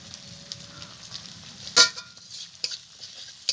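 Chopped tomato and dry red chilli powder fry into a masala in a pan, with a soft continuous sizzle broken by sharp spatula scrapes and clicks as the mixture is stirred.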